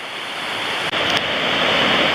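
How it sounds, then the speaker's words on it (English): Surf on the Napali Coast in Hawaii rumbles and crashes below a high trail, a continuous broad roar of waves with some wind noise on the microphone. "We're just admiring the surf coming in right now. They have a pretty good swell, and these waves from way up here are just crashing"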